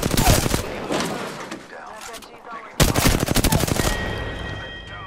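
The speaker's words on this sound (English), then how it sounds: "There's another squad attacking. Opening fire." Rapid gunfire in an Apex Legends squad fight: dense, loud bursts of automatic shots, a brief lull near the middle, then another sustained volley with sharp cracks; a voice is faintly present under the shooting.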